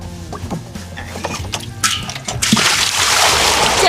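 Water poured in a steady splashing stream at a grassland herders' home, rising to a louder, denser gush in the last second and a half, with faint background sounds before it.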